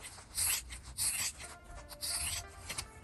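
Fabric being trimmed beside a sewn seam line for a handbag, a close, soft rasping snip-and-rub repeating in short bursts about every half second, with no talking.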